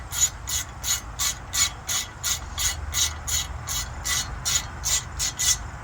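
Ratchet wrench snugging the hub bearing bolts on a 2012 Ford Focus front hub, a steady series of short, close pawl clicks repeating in quick even strokes with no talk.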